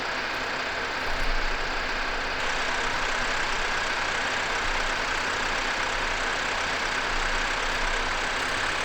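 Tractor engine in Farming Simulator 2015 drives along a road in South West Norway, carrying logs: a steady, loud, broadband engine drone holds throughout without a break, with no talk over it.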